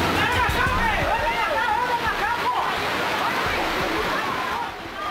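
Heavy rain floodwater rushes over an entire city avenue in Belo Horizonte, a loud, steady broadband roar of flowing water with splashing, and voices chattering beneath it throughout.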